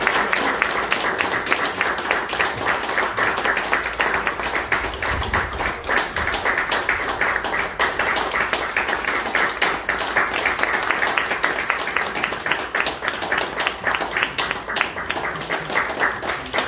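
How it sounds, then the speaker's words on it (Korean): A church congregation at a thanksgiving service founding a mission branch in Pohang claps in celebration, a long, dense, continuous round of applause lasting over sixteen seconds, loud and steady throughout. "우리 박수로서 우리 축하드리겠습니다."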